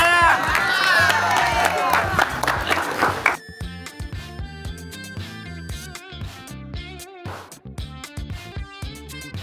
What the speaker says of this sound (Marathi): काकांसाठी टाळ्या.